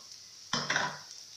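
Scrambled eggs with milk cook in a pan: a short, quiet hiss is followed by a brief spatula scrape and stir, with no talking.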